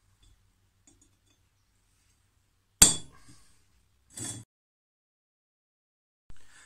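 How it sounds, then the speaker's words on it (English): A steel centre punch is struck on metal to mark a drilling dimple: one sharp, bright metallic strike followed by two softer taps spaced a second or more apart in a quiet room. "I'm going to be using something called a centre punch, and this is just going to make a little dimple where we need to drill our holes"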